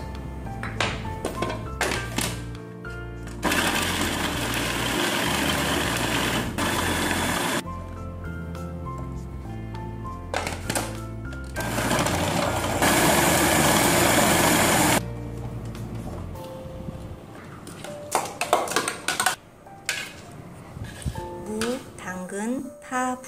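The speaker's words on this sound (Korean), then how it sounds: "마늘, 양파, 그리고 홍고추를 믹서기에 갈아주세요" A blender grinding garlic, onion and red chili roars loudly in two long grinding bursts separated by brief pauses, followed by quieter clattering and knocks.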